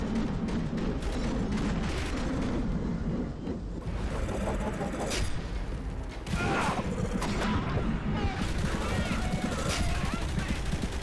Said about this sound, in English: He's shooting through the pillar.